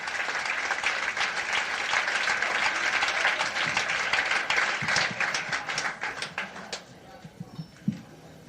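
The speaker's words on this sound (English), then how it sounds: "How about a big round of applause, ladies and gentlemen" A comedy club audience claps loudly for a stand-up comedian, the applause thinning into scattered individual claps and then fading out.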